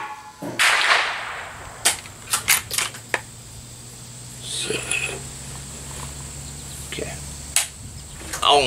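A 1909 Argentine Mauser rifle fires reloaded 7.65x53 cartridges outdoors: one sharp crack near the start, then a run of metallic clacks and clicks as the action is worked, with a muffled voice in the background.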